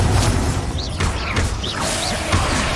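Crackling spell blasts and whooshing magical impacts, including the Bombarda blasting spell, sound close and loud in Hogwarts Legacy. Several bursts come in quick, irregular succession over a dense, noisy battle background.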